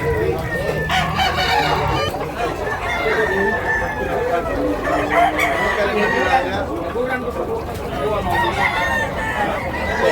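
Several roosters crow repeatedly and overlap amid constant clucking from a crowd of chickens at a market in Tabunok, Cebu, with faint human chatter in the background.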